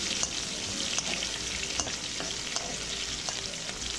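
Small chopped onions fry in a pan for a mutton kulambu with drumsticks, giving a steady close crackling sizzle with a few light stirring clicks throughout, no voices.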